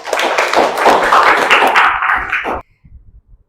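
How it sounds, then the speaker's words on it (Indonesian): A class claps hands together in a short burst of quick, close claps that stops abruptly, leaving a few faint taps afterward. "tepuk tangan untuk kita semua"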